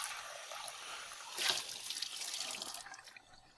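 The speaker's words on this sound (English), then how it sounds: "give it a second rinse" Water rinsing a handmade clay bowl before glazing, a soft, close splashing and trickling that rises briefly in the middle, then tapers off.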